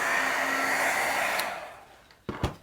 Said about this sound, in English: I'm gonna hit this with my heat tool